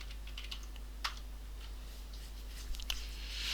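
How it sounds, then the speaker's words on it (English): Typing on an HP DV6 laptop keyboard, with scattered nearby key clicks and a few sharper taps over a steady low electrical hum. "I'm not used to this keyboard yet."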